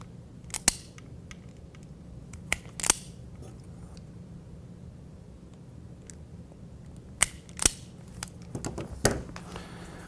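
Electrical wires are restripped of their insulation, a few sharp, close snips and clicks from a stripping tool in small clusters, separated by quiet stretches.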